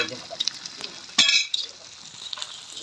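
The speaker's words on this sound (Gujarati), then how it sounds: "હવે ઘીમાં આપણે ગોંદર તળી લઈશું" Gond, edible gum, frying in ghee in a kadai on a gas stove for a winter sweet, with light crackling sizzle, scattered pops and a sharp metallic scrape of stirring, all close and fairly soft.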